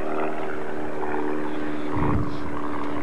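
Bud Light 200 aerobatic airplane performing a demonstration at the 1993 Reno Air Races, a steady propeller engine drone holding throughout with a brief low swell near the end, moderately close.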